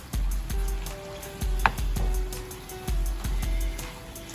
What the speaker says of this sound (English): I'm gonna mix in our veggies, let those cook down some.